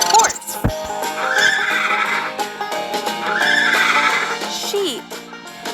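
Cartoon horse neigh from a children's farm-animal stacking game, a loud whinny with bright music-like tones and a short thump near the start, playing over cheerful background music.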